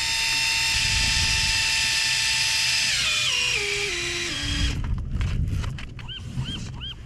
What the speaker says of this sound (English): turn it on and let the electric reel do the work